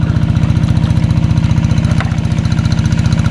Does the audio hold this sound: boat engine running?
yes